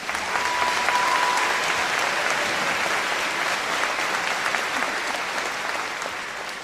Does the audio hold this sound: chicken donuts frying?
no